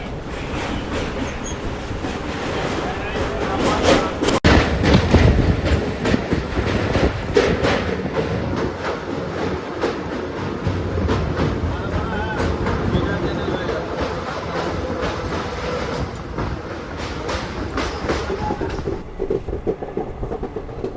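The Sealdah–Silchar Kanchanjungha Express pulls out of Pakur station with a continuous close rumble and rattle of wagons and wheels, occasional clacks and a brief squeal, as a voice speaks over it.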